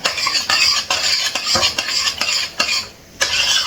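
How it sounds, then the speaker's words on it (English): A spoon works through a tuna casserole mixture in a bowl, giving quick rhythmic scraping and wet stirring strokes, several in a row with a brief pause, close and fairly loud, with no voices. "Let's mix this."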